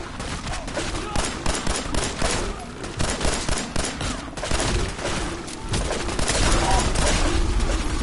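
Rapid bursts of gunfire in the video game Fallout 4, dense cracking shots and booms overlapping in a chaotic fight, with a voice talking at times.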